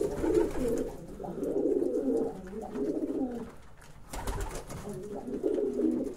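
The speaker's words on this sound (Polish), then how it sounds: "To jest gołąbek z charyzmą." A pigeon coos close by in repeated low, throaty rolling phrases, with brief pauses between them and a soft rustle partway through.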